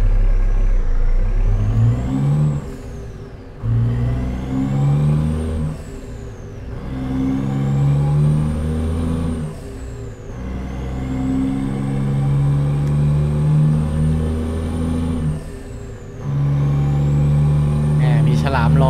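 Kenworth W900 truck engine in American Truck Simulator, a loud, steady diesel drone that climbs in pitch through repeated gear shifts, with brief dips between gears and a short hiss near the end.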